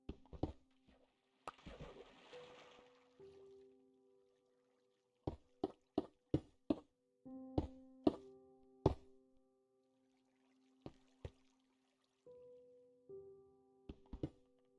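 Sparse, hollow water drips in the Minecraft video game, a series of distinct plinking drops arriving in irregular clusters with quiet gaps between them, fairly close and otherwise alone.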